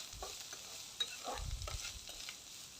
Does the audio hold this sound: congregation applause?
no